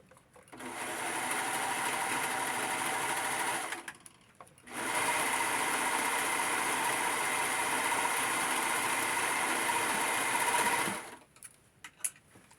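A serger sewing machine threaded with white thread runs at a steady, loud, close whir in two long bursts separated by a brief pause, then stops, with no talking.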